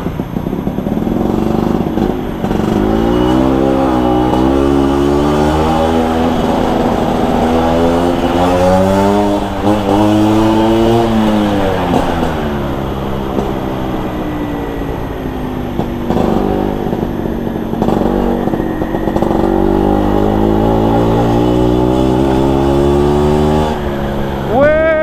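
A motorcycle fitted with a KY26 racing exhaust revs hard and repeatedly, its loud raspy note climbing and falling through throttle blips and sustained high revs, up close throughout.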